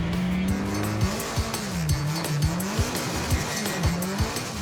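Drift car circling a race track with its engine revving and whining up and down, tires squealing in repeated sweeps, loud and close throughout.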